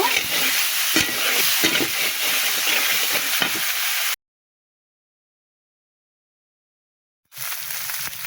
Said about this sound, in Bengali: মশলাটা ভালো করে কষিয়ে নেব, আলুর সঙ্গেই কষিয়ে নেব।